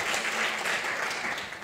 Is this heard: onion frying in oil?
no